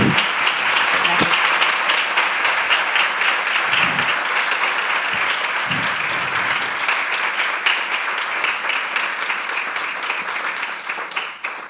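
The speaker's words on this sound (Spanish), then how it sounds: "pido un fuerte aplauso para los tres ponentes" A live audience applauds for three speakers at an on-stage wine talk: a loud, dense crowd of clapping that holds steady for about ten seconds and only slightly thins toward the end.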